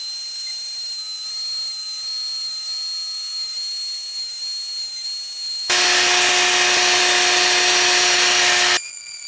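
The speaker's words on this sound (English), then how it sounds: "I've got a small round over bit in here," A router fitted with a small round-over bit rounds the edges of a wooden wallet. A faint high whine gives way to a loud, harsh cutting roar for about three seconds as the bit bites into the wood, then drops back.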